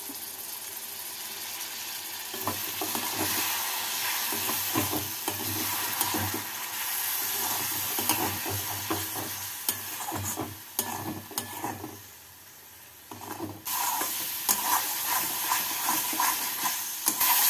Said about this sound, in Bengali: 1 টিস্পুন আদা বাটা, 1 টিস্পুন চিনি, অল্প জল দিয়ে মশলাগুলোকে কষিয়ে নেব